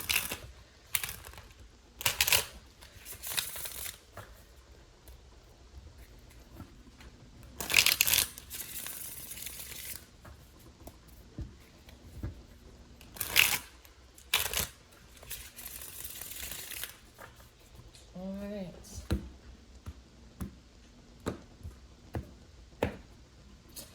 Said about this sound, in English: All right, let's do 3 more shuffles.